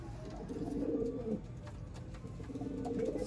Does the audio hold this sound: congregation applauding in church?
no